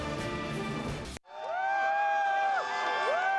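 A college football crowd at a 2008 Colorado Buffaloes vs Iowa State Cyclones game in Boulder, Colorado, roars loudly for about a second, then cuts abruptly to sustained, wavering tonal sounds.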